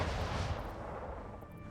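Explosion at a factory in the video game Anno 1800, a loud booming low rumble filling the whole short moment and slowly fading.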